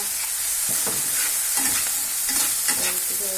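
Ginger and garlic paste frying in a pan for a fish malai curry, a steady loud sizzle broken by repeated scraping stirs, with no voices.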